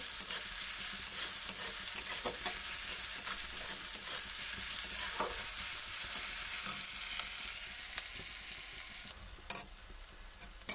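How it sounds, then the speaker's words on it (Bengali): Salted onions frying in a pan for a fish and pointed gourd curry, giving a steady, close, continuous sizzle with scattered crackles and stirring scrapes throughout, no voices. "পেঁয়াজগুলোকে আমি ভালো করে ভেজে নেব প্রথমে"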